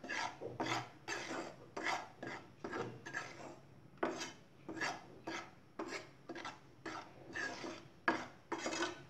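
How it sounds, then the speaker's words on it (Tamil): Wheat flour and rice flour dry-roasting in a pan for idiyappam, stirred with a rhythmic series of rasping scrapes, roughly two strokes per second, close and clear with no voices. "ரைஸ் ஃப்ளவர் ரெண்டையும் சேர்ந்து கொஞ்சம் நேரம் வறுத்துக்கிட்டே இருங்க"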